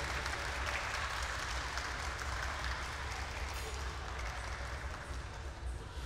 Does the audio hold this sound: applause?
yes